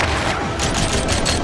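Rapid dual-pistol fire from the roller-skating shooter Rollerdrome, a dense, continuous burst of overlapping gunshots over a busy game mix, loud and close for about a second and a half.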